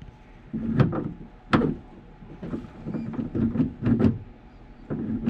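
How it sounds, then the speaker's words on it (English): A BMW E46 car door is worked open and shut several times, with a series of close, sharp clunks and latch clicks separated by brief pauses. "after I bend it, it gives me that extra leverage to open and close the door"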